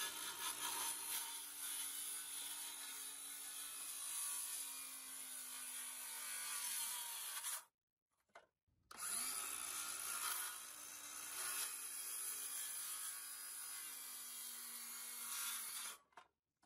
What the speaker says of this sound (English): Then we'll just cut those out and we can install them.